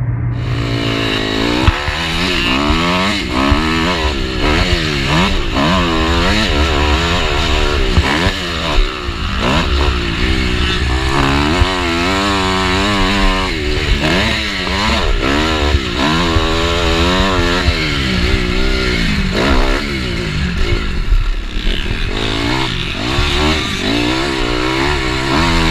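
Dirt bike motorcycles at Martin MX Park motocross track, engines loud and close, revving and rising and falling in pitch continuously for the whole stretch, with no talking.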